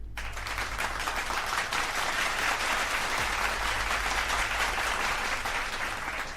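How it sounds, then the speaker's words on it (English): Applause fills the scene in the video game Limbus Company, a dense, steady crowd clapping that holds at an even, loud level throughout. "That's quite the thing to applaud to."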